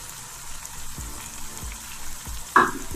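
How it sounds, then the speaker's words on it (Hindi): Chicken pieces browning with yogurt in a pot for pulao, a soft, steady sizzle with a few muffled stirring knocks and a sharper clink near the end, close by and without speech. "चिकन को अच्छे से भून लेना है।"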